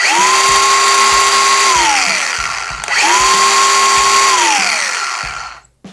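DeWalt 412 cordless angle grinder fitted with a 5 Ah battery, run twice in a row, each time a loud steady whine that spins up, holds about two seconds, then winds down.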